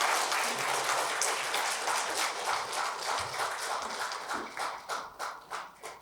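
Congregation applauding at a Korean Presbyterian church's Christmas service to welcome an infant's baptism, steady crowd clapping throughout that thins into a few louder scattered claps toward the end.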